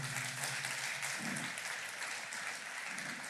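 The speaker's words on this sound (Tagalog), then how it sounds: "Yung pong palakpak na nagpapasalamat kang buhay ka hanggang ngayon." Sustained applause from a church congregation during a Filipino worship service, thick and even clapping filling the whole stretch with a low murmur underneath.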